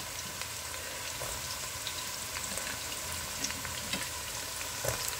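Onions frying in hot oil for a matembele dish with smoked fish, a steady close sizzle and crackle running throughout, with occasional louder pops and stirring scrapes.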